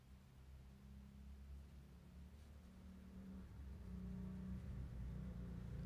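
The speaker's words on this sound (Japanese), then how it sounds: "バイクの音が。" A motorbike engine passes outside, a steady low rumble that slowly grows louder and closer over several seconds, with no talking.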